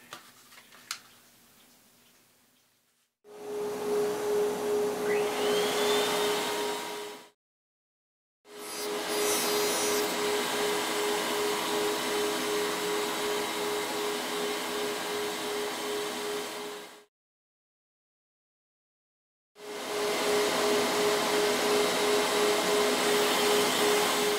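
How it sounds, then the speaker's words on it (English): Two dust collectors and a router run in a woodworking shop on a mantel clock build, roaring loudly with a steady whine in three long bursts separated by abrupt silences, each starting and stopping sharply. "There's going to be 2 dust collectors going and the router."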